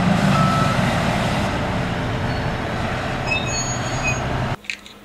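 A toy orange dump truck sounds a run of high, evenly spaced reversing beeps above a steady rumbling motor, loud and close, and the noise cuts off sharply near the end.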